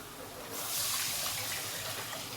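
Water poured into a cooking pot before boiling, a soft steady rushing splash that swells after a brief quiet start, close by and fairly faint.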